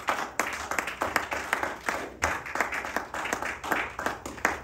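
A church congregation at a Sunday worship service claps together in a brisk, steady rhythm, the many hands blending into loud applause that carries through the room without a pause.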